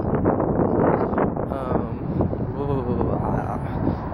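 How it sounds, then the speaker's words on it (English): Strong wind buffets the microphone in a steady low roar on a cold winter day in Madrid, with someone speaking over it. "Windy. That's the biggest problem."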